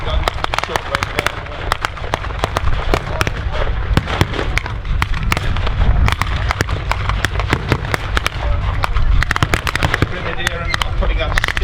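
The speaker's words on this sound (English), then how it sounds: "They are returning fire" Gunfire and explosions crackle through a Tankfest battle reenactment at Bovington's Kuwait Arena, with infantry rifles and Thompson submachine guns trading fire and mortar rounds landing. Dense rapid pops and bangs run continuously, loud and close, with a commentator's voice underneath.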